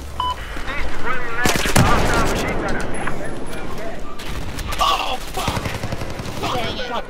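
Rocket fire clearing a room in Battlefield 4, a chaotic stretch of loud blasts and rapid gunfire with players talking excitedly over the combat.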